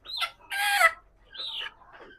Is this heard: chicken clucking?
yes